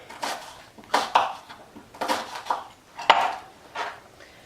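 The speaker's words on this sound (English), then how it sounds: "But I am just dicing it quite." A knife dicing onion on a board for a one-pot curry, a series of sharp, irregular chopping taps close by, about a dozen strikes in uneven bursts.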